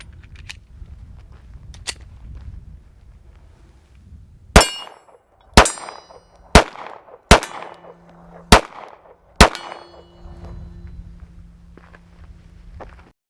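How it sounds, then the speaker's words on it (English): A Glock 42 .380 pistol fires six sharp, loud shots at an outdoor range target about 26 yards away, spaced roughly a second apart, with quiet gaps and faint background noise between them. "I had a lot of fun shooting this little Glock 42"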